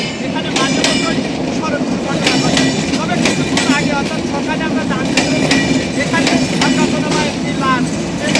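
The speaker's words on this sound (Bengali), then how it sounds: "দেখতে পাচ্ছেন এখানে একটি ট্রেন এই মাত্র যাচ্ছে" A train runs past an ungated level crossing, its loud, steady rumble broken by repeated wheel clatter and clanks for the whole stretch, up close.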